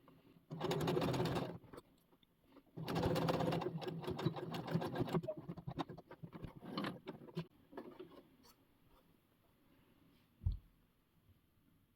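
A sewing machine stitches a dress in two long bursts of fast, steady whirring, then a few short clicks and a thump near the end, with no talking.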